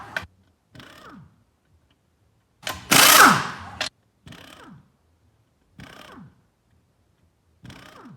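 A power tool buzzes in short repeated bursts while backing bolts out of an Allison engine during teardown, with one longer, louder whirring run in the middle and quiet gaps between bursts.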